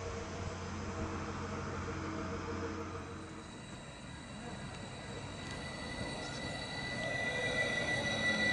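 A regional express train on the Hohenlohebahn line between Heilbronn and Crailsheim, heard from on board, gives a steady low rumble with thin tonal whines that shift and rise as it rolls along.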